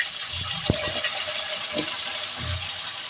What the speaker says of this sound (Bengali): আর পটলগুলো আমি এরকম ছোট ছোট করে কেটেছি। পটল আমি ছেড়ে দিলাম।